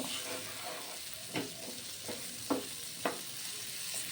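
Green peas stirred in a pan give a steady soft sizzle with a few sharp scraping clicks of the spoon spaced through it, close and fairly quiet, no voices.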